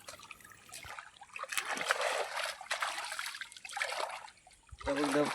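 Water rushes and trickles through a small earthen dam broken open near a fishing spot, an uneven splashing flow that swells and fades, fairly close.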